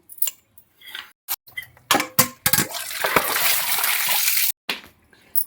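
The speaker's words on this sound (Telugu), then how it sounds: "రాత్రి నానేసుకున్నామండి అలసందల బేడలు మనము కడుక్కొని వడగట్టుకుందాం" Soaked split black-eyed peas are rinsed by hand in a bowl of water, with intermittent splashes and sloshing, a sustained burst of swirling water in the middle, and clinks of the vessel, close up and without talk.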